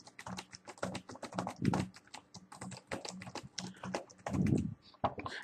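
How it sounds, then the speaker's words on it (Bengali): Demo text is typed on a computer keyboard, a close and fairly quiet run of quick, uneven key clicks with short pauses and a few heavier thumps. "এখানে আমি ইচ্ছে মতো টেক্সট লিখি।"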